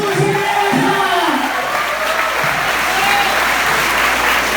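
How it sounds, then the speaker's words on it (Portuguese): A church congregation at a Methodist service claps steadily and loudly, with a few cheers in the crowd and a low voice speaking over the start. "Aplaude Jesus, igreja!"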